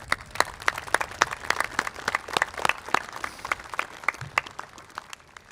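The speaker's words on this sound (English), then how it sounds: "I'm definitely giving you a big round of applause for that one." Audience applause at an outdoor Veterans Day ceremony at the Mt. Soledad Memorial, a steady burst of many hands clapping at moderate distance, sustained for several seconds with no voices over it.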